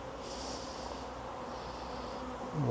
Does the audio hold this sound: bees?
yes